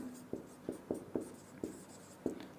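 Chalk tapping and scratching out answers on a classroom blackboard during a physics lesson on mirror reflection, a series of about eight short sharp strokes and taps at an uneven pace, close and fairly quiet, with no talking.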